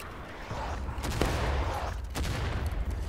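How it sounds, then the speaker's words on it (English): Heavy gunfire and booming blasts roll through a Civil War battle in the video game War of Rights, a loud fusillade with distinct cracks and rumbles, with cannon among them, sounding close and continuous. "So much cannon."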